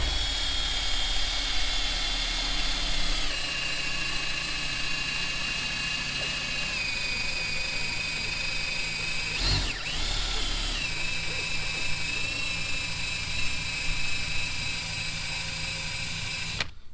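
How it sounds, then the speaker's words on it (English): A power-driven eraser wheel strips old adhesive from a car door during trim removal, giving a steady, loud high-pitched whine that holds throughout, with a brief dip in pitch midway as it bites harder. "Let's use this eraser wheel and see what we can make a mess of here."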